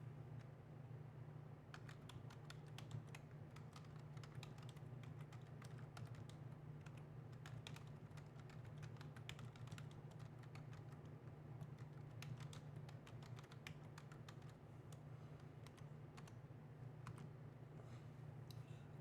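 Steady keystrokes on a computer keyboard entering Linux commands as a root user, a continuous rapid clatter of clicks close by over a low, constant fan hum, with no talking.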